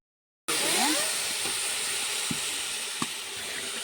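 Water poured into a hot pan of frying rice and peas for pulao, erupting into a loud hiss and sizzle that slowly settles to a steady simmering crackle.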